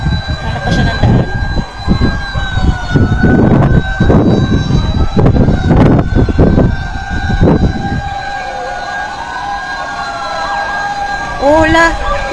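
A fire truck siren wails on the way to a house fire in Parañaque City, loud and steady over strong wind and crowd noise, with people talking nearby.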